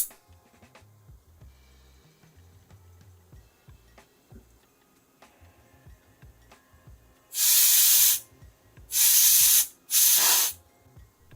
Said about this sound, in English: And now I'm using canned air for small particles inside the module.